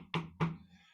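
A wooden object knocked twice in quick succession, dull hollow taps close by with a short resonant tail, alone in a quiet room.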